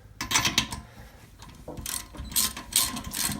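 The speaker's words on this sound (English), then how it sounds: "Next thing we're going to do is we're going to pull the spark plug." A ratchet wrench loosens a spark plug on an engine during valve spring replacement, giving close, loud bursts of rapid clicking in several short runs.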